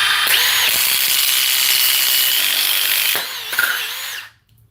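A power impact driver whirs loudly and continuously with a rattling hammer edge for a few seconds, then winds down and stops.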